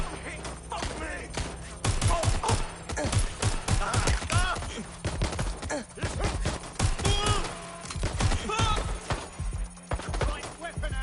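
Gunfire in Watch Dogs Legion: dense, sustained rapid bursts of shots and impacts cracking continuously for about eleven seconds, with voices mixed into the din.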